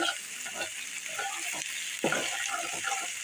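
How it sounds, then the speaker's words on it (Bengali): Ginger and garlic sizzle in hot oil for a chicken curry, a bright steady frying hiss with scattered stirring scrapes over its few seconds. "তেলে একটু ভেজে নিলে"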